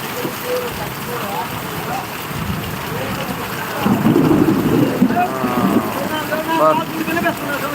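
Steady rain pours down with low rumbles of thunder swelling in the middle, a continuous wash of noise with a voice speaking over it.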